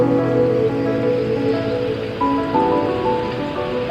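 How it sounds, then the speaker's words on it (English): Water rushing over a man-made dam at Scobey Dam Park, a loud, continuous broadband roar like a waterfall, steady and close throughout with no speech. "what you're hearing in the background, the noise, is what I like to call a man-made waterfall"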